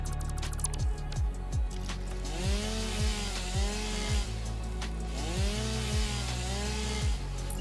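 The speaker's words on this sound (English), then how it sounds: "And the chainsaw animation takes a long time." A chainsaw animation in the video game Satisfactory: repeated revving saw bursts that rise and fall in pitch, several cuts in a row at an even pace, loud and without voices.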